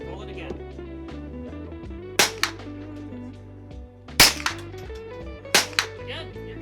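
Handgun shots at a shooting range: three sharp, loud reports spaced a couple of seconds apart, each with a short ringing tail, over a low steady hum.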